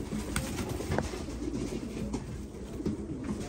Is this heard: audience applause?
no